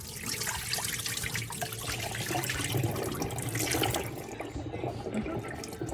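Buttermilk draining off fresh homemade butter, a continuous close pouring and splashing of liquid that thins out toward the end, with no voices.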